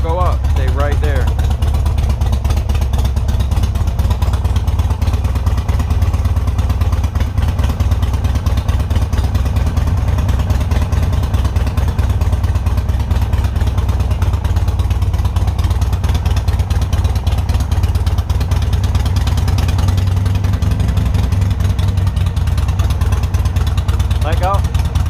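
A 2005 Harley-Davidson Sportster engine, mid-rebuild, runs loud and close at a steady held throttle, a continuous rumbling drone with a faint mechanical clatter and no revving, for the whole stretch.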